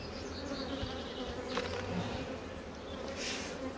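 Honeybee colony humming at an open hive while it requeens after swarming, a dense, steady outdoor buzz close by with individual bees droning past, no talk.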